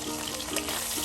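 Chapa dried fish sizzling in hot oil in a pan, a dense steady crackle and hiss over one short moment without any voice.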